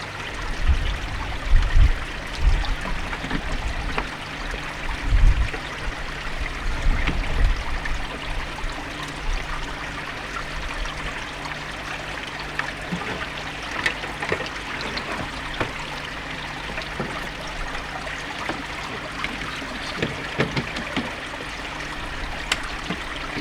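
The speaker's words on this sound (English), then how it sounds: "I've got the waterfall right close to it, so I might get a bit of background noise" A garden pond waterfall runs beside a koi feeder, giving a continuous trickling, splashing flow with some louder gurgles early on, heard close and alone without talk.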